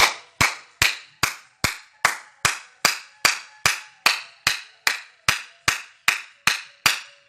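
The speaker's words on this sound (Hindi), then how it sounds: "दोनों हथेलियों को हमें आपस में टकराना है और पूरा दबाव हमारी उंगलियों और हार्ट पे हाथ पे रहेगा" Two palms struck together in a yoga clapping exercise, about eighteen sharp, evenly spaced claps, each ringing briefly, close and loud with no talk.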